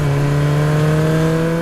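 A motorcycle engine on a city road holds a strong, steady revving drone during a stunt, close and loud throughout with no voices.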